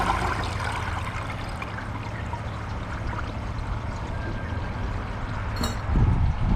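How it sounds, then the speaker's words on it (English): A toilet flushes during a Glacier Bay PowerFlush versus Kohler Class 5 test, a continuous rushing of water into the bowl that swells into a gurgling surge near the end. "I'm going to give it another flush after the tank is full."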